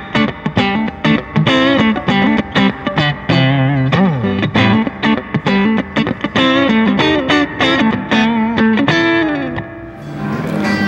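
Distorted electric guitar plays a busy riff through a BOSS FDR-1 amp, with a springy, splashy spring reverb trailing the notes and ringing out at the end.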